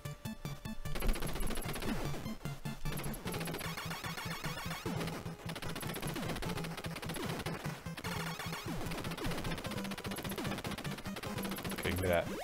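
Rapid, steady gunfire from the NES game Contra fills the whole stretch, layered over busy chiptune music and sound effects, with a player's voice talking over the top.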